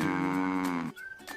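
A cow gives a single long, low, tonal moo, close and fairly loud, trailing off into quiet.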